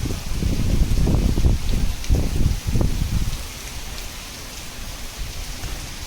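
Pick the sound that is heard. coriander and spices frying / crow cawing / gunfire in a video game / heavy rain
heavy rain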